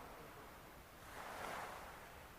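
Ocean waves wash onto a beach in a steady, soft surf roar that swells gently midway, heard at a distance with no voices.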